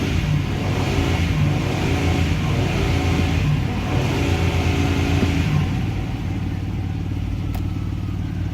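A Ford Explorer with an anti-theft fault is being started. A steady, dense motor drone runs unbroken throughout, close and fairly loud, with no talk.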